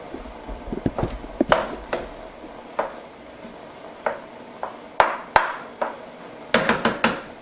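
A pot lid handled and set on a pot of cooking meat, a scattered run of sharp metallic clanks and taps of varying loudness with quiet gaps between them.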